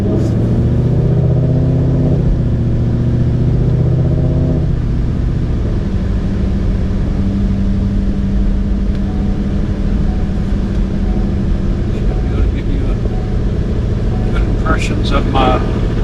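A Whipple-supercharged car engine fitted with a smaller 3.25 Griptec pulley accelerates on the street, loud and close, its rising engine note climbing through gear changes before settling into a steady drone, with a voice speaking over it.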